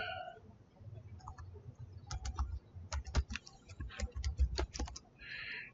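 Rapid bursts of computer keyboard typing while code is written, with irregular clusters of sharp clicks and short pauses between them. The typing is close and fairly quiet, with no talking.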